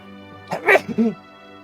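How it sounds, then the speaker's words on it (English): A single sharp sneeze bursts out, quick and close, with a short voiced catch after it. "I sneezed so many times."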